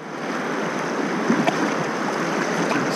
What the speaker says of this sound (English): We're now entering the rapids.